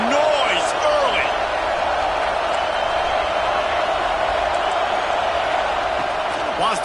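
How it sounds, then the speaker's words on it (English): Crowd noise at a college football stadium game against USC, a dense, loud, continuous roar filling the stands with scattered shouts and whoops and no break. "This crowd bringing the energy and noise early."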